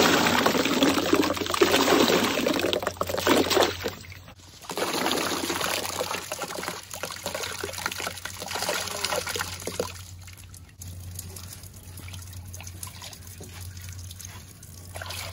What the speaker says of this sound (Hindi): तो अभी इसको मैं वॉश कर लेती हूँ।